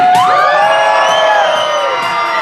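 A large crowd of the blue team at a Kentucky Kingdom show cheering loudly, with shrill whoops and screams rising and sustained together at close range.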